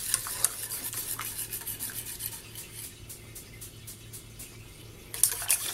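Batter for a honey cake being whisked in a bowl, a steady scraping, rasping stir with rhythmic strokes that continues throughout, a little louder clinking at the very end.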